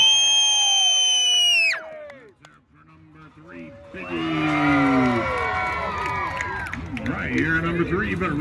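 At a strawberry festival pig race, a crowd cheers and hollers, with a loud burst that fades, a brief lull, then renewed cheering and whoops mixed with excited voices.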